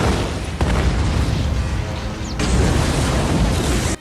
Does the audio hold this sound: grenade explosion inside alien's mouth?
yes